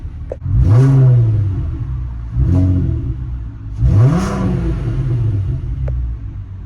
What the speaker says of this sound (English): when she's fully warm, up to temperature, I'm gonna give her a couple revs